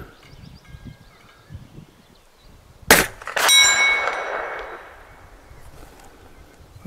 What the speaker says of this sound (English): I'm hitting the steel, but it's hard not to see where I'm hitting